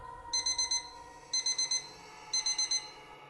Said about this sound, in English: she woke up to the sound of an alarm